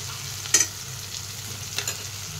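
Soybean masala fries in a pan, a constant low sizzle and hiss with two quick scraping stirs standing out briefly.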